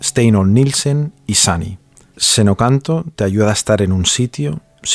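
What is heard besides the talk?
No everyday noise stands out behind the speech.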